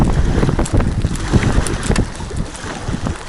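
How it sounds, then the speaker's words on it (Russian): Strong wind buffets the microphone on a boat during a fishing trip on a Yakutian river, a loud continuous roar with rushing water and gusty bursts, no voices. "ветер, волна, дождь."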